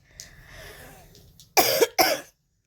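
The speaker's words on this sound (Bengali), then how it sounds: "প্রচণ্ড কাশি হয়েছে, কথাই বলতে পারছি না।" A woman coughs twice in quick, close succession, sharp and loud, after a faint quiet stretch of room sound.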